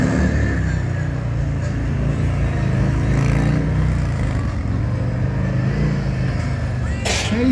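A Harley-Davidson motorcycle engine rumbles steadily and close by throughout, a continuous low throb with wind noise and a brief sharp burst near the end.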